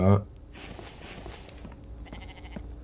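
A short, loud goat bleat bursts out at the start in a survival crafting game, then fades into steady ambient game noise.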